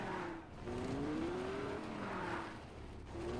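A Lamborghini driving in the Fortnite video game, its engine note steady and droning with slight rising and falling pitch, moderately faint and heard alone.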